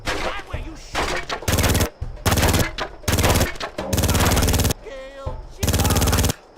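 Automatic gunfire in the 2006 video game Made Man, loud repeated bursts of rapid shots in blocks separated by short gaps, close and harsh, with brief shouting between bursts.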